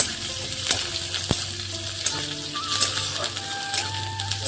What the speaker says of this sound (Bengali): পেঁয়াজটিকে হালকা হালকা করে ভাজতে থাকবো